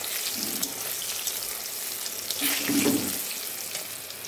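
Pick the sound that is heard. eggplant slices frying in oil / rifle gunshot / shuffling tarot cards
eggplant slices frying in oil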